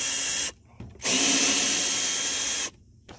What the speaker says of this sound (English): Just take these out, just be like, screw.